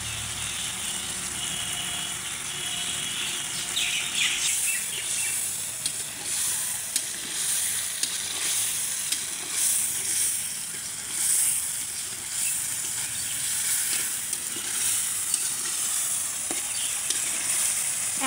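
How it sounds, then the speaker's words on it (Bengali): Sea rita fish cooks in a spiced gravy, producing a bright, hissing sizzle with bursts of steam and occasional stirring scrapes, close and steady throughout. "এখন দিয়ে দেবো মাছগুলো, দিয়ে দিচ্ছি মাছগুলো।"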